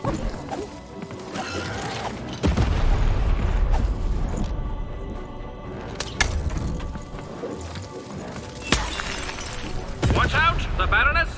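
Cannon fire and mechanical clanks in the Lost In Random video game during a fight with the Baroness, with several sharp booms and crashes over busy game music and effects.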